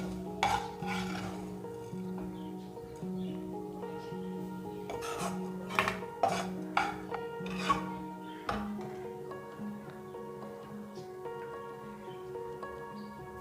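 A spoon stirs fried onion and green chili into kuzhi paniyaram batter in a bowl, giving repeated scraping and clinking strokes in an uneven rhythm, with a faint steady tone underneath.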